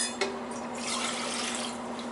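Water runs steadily from a tap into a cooking pan for rice, a continuous close hiss and splash lasting the whole moment with no talking.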